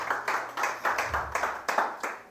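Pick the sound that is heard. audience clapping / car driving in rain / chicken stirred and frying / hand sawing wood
audience clapping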